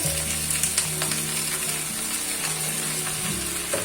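Potatoes and okra (bhindi) fry in a pan for aloo bhindi salan, giving a steady close sizzle with faint scraping clicks throughout and no talking.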